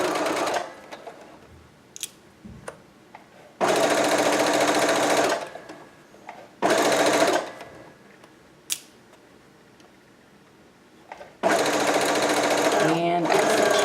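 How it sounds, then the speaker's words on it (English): A sewing machine stitches bias tape onto a fabric edge in three loud, steady whirring bursts of a few seconds each, separated by quieter handling clicks and someone talking between runs. "sew in that crease, attaching the bias tape to a single layer"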